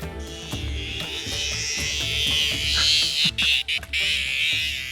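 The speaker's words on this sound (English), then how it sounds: "This is a adult male razor grinder cicada" An adult male razor grinder cicada in Australia calls loudly and up close, a dense, continuous buzzing drone that holds steady before breaking into a few brief stutters near the end.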